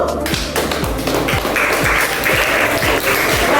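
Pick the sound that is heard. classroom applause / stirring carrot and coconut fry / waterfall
classroom applause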